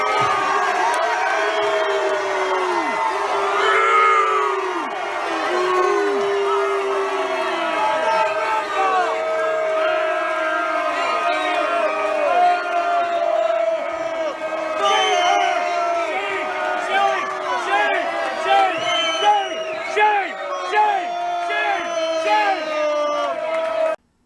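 A large convention-hall crowd at a Democratic National Convention event loudly booing Debbie Wasserman Schultz, a sustained roar of mixed voices with shouts and whoops rising and falling throughout, with no speech standing out from the crowd.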